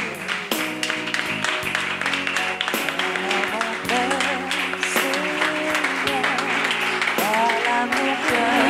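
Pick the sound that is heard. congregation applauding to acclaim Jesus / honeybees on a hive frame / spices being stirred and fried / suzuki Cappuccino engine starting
congregation applauding to acclaim Jesus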